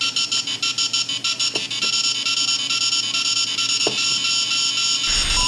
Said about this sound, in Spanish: vamos a hacer este cacharrito que hace ruido cuando te mueves